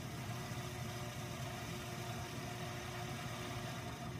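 A sewing machine motor spins steadily while winding thread onto a bobbin, making a continuous, even whirring hum at moderate volume with no breaks.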